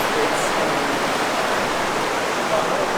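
River water rushing steadily while hikers wade upstream through The Narrows in Zion National Park, a dense, continuous close roar with no pauses.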